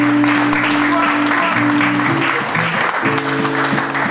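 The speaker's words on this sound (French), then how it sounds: "Sous vos acclamations, s'il vous plaît." Wedding guests at a church celebration applaud loudly, a dense continuous clatter of many hands over sustained music tones, holding steady for the whole stretch.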